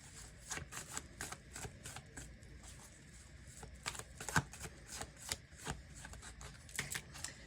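Tarot cards shuffled by hand during a Taurus reading, a steady run of crisp riffling flutters and soft slaps repeating close by across the whole stretch, with no talking.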